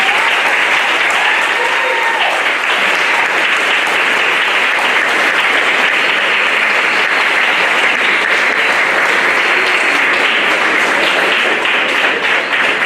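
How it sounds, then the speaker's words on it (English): A crowd at a 5th grade completion ceremony at an elementary school gives the students a long, loud, sustained round of applause, dense clapping filling the room throughout with faint voices mixed in. "Let's give these students one more big round of applause."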